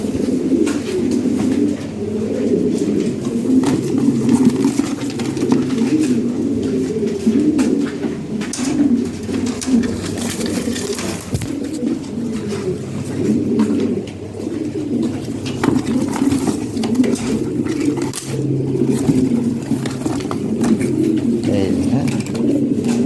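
Fancy pigeons coo continuously and close by, a steady layered murmur of low throaty calls with no talk over them, heard while a pair of black birds is being handed over.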